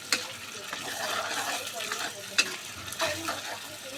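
A spoon stirs egg korma masala in a pan after hot water is added, with soft scraping and gentle sizzling and a few sharper clinks against the pan.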